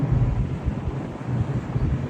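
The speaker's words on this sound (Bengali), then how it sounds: "ওই বাতাস বেশ অনেক বাতাস" Strong sea wind on a ship's deck buffets the microphone, a constant low roaring rush with gusty swells throughout.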